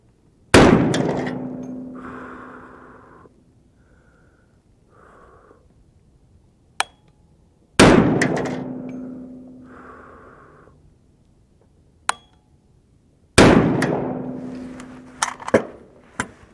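A 350 Legend rifle fires Cadillac Blue ammunition outdoors, three loud sharp shots spaced several seconds apart, each ringing out in a long decaying echo, with faint clicks and handling noises between them.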